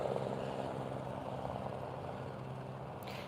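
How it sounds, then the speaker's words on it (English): Helicopter engine and rotor drone held loud and steady throughout, filling the clip with a continuous low throbbing hum. "he is showing off his skills on the chopper"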